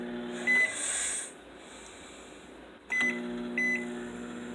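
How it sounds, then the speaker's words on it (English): A microwave oven runs with a steady hum and whir, with a short high tone at the start, then a door or click and two brief beeps near the end, no talk. "Then we put in the microwave."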